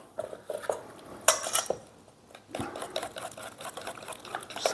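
A utensil mixes butternut squash into wet ingredients of brown sugar, eggs and orange juice in a bowl, making close, irregular scraping and clinking strokes with brief pauses.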